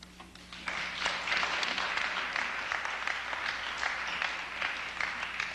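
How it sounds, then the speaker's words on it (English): Sustained audience applause fills a university lecture hall after a remark during Rabbi Meir Kahane's talk at the University of Minnesota: dense, steady clapping from a large crowd, loud and even throughout, with no voices on top. "I was really afraid that after that asinine comment, people would really clap"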